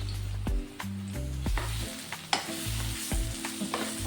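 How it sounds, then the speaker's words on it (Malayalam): Chopped banana sizzling and frying in hot ghee, with a spoon scraping and stirring the pan at a steady rhythm, close and loud, with no voices. "ചൂടുള്ള നെയ്യിലോട്ട് നമ്മൾ ഈ നുറുക്കി വെച്ച ആ പഴം ഉണ്ടല്ലോ അത് അതിലോട്ട് ഇട്ട് കൊടുക്കുക"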